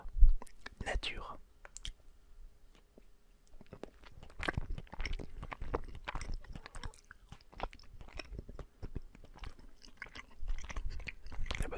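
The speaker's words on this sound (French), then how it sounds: "On va goûter un petit toast nature." Plain toast served with foie gras is bitten and chewed close to the microphone, giving soft, repeated crunches and moist chewing over about twelve seconds with faint whispering between bites.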